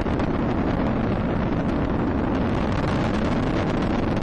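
Space Shuttle engines roar without a break during the STS-116 launch in 2006, throttling back, a dense, crackling rumble heard from a distance.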